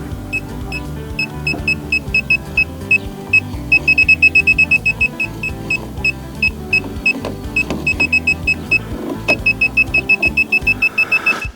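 A circuit breaker finder emits a steady, electronic beep that repeats throughout, with a burst of faster pulses partway through and near the end, over low background noise.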